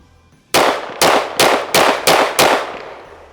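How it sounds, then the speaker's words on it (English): Six sharp, loud pistol shots from a Staccato P 2011 in a quick, even string at close range, each crack ringing out briefly before the next. "I want you to see how that recoil cycle is and ultimately how this gun tracks on target."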